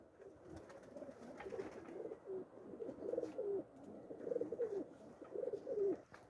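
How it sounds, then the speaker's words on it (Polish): Racing pigeons cooing, a series of soft rolling coos repeating in short phrases, faint and fairly close, with light background noise and no talking. "I to są gołębiaki."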